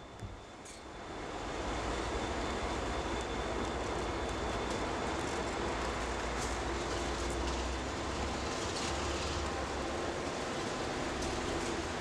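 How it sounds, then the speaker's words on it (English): An MBTA HSP46 diesel locomotive at Readville, Boston, revs up while pulling a train. A steady, low engine drone and rail rumble swell in and hold throughout, heard from a distance with no talk. "It was pretty cool seeing the HSP46 rev up and perform a not-so-everyday railroad"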